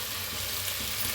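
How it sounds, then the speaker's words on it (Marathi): Tomatoes roasting in a hot pan for tomato-and-ivy-gourd masala rice, giving a steady, close, even sizzle with a low bubbling undertone and no voices. "टमाटरला छान भाजून घेऊया।"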